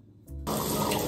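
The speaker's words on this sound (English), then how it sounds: "I just fill it with the water." Water gushing from a tap into a tabo, a plastic dipper, in a bathroom: a faint drip first, then the flow starts suddenly and runs on as a loud, steady splash.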